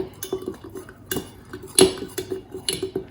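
Jamaican black castor oil and other oils for an Ayurvedic hair treatment are stirred in a container, with a metal utensil clinking and tapping against the sides in an irregular rhythm, close and fairly quiet.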